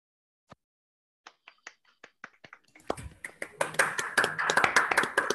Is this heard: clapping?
yes